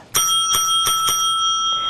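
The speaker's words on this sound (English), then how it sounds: "a bell will sound when your time is up" A debate timekeeper's bell at a 2018 Nevada Senate debate rings several times in quick succession, bright and clear, with the tones sustaining and ringing on after the strikes.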